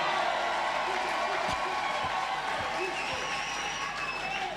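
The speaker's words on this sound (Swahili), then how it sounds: "Jamani, hebu mpeni Bwana Yesu makofi." A church congregation applauds for Jesus at a Swahili sermon, a dense, sustained roar of clapping mixed with crowd noise that holds steady throughout, with faint murmuring underneath.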